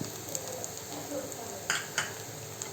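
Dal and chilli masala sizzle softly in a hot pan while being stirred, a steady faint fry with a few sharp scrapes of a spoon against the metal.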